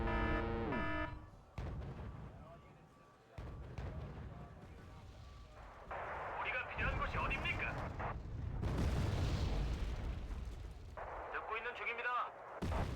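Mortar shells explode in a strategy video game, a run of heavy booming blasts and crackling impacts repeating across the stretch, loud and close, with bursts of game noise in between.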